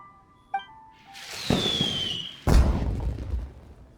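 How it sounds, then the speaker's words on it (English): Two loud explosions in the video game Genshin Impact about a second apart, each a sudden broadband burst with a rumbling tail; a small click comes first and a whistling tone rises in between. "Did you hear that explosion?"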